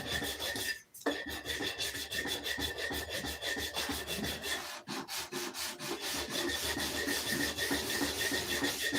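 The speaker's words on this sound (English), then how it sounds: "Almost ready to sand this super slime off." Wood is sanded by hand to strip off a coat of slimy finish, producing a continuous fast rasping back-and-forth scrub, loud and close, with two brief pauses and no talk.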